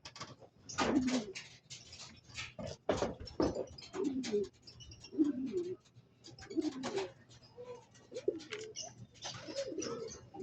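Racing pigeons coo repeatedly in low, throaty bursts as they return to their loft during a training flight, close by and fairly quiet, with occasional clacks and rustles between the calls.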